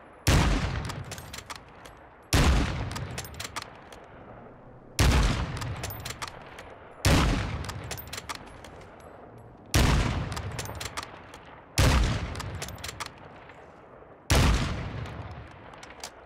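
A sniper rifle fires in the video game Warzone 2, seven loud single shots spaced about two seconds apart, each a sharp crack with a trailing decay.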